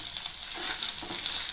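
Ginger and chilies sizzle in hot oil in a pan, giving a steady, close crackling hiss that continues without a break.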